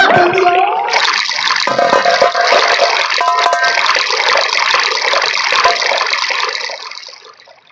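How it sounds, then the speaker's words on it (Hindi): A fast-flowing river produces a loud, continuous rush of water that fades away at the very end. "देखो नदी में पानी का बहाव बहुत तेज है"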